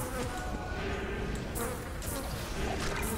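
A swarm of bees in the video game Diablo 2 gives a dense, continuous buzzing drone throughout, loud and close, with the hum wavering slightly as the swarm moves.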